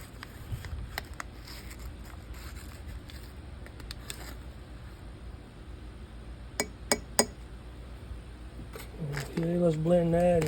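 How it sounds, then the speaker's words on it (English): Glow powder being stirred into a glass container, with several sharp clinks of a utensil against the glass, close and fairly quiet, over a low background hum. "let's blend that in. Let me stir that in."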